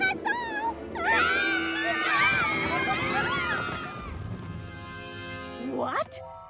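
A cartoon crowd of ponies shrieks and wails in panic, overlapping high cries and galloping hooves rising then fading, followed by a single rising scream.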